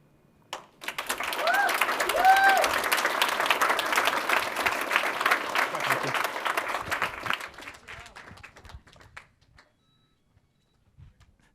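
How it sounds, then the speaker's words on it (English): Applause from an audience at a business demo day after startup pitches swells in quickly, holds as a full, even patter of many hands for several seconds, then thins and fades to silence. "Let's get one more round of applause for the first 4 pitches of the afternoon"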